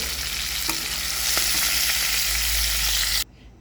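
Banana flower and prawn preparation frying in hot oil, giving a loud, dense, steady sizzle close by. The sizzle holds for about three seconds and then cuts off abruptly into near silence.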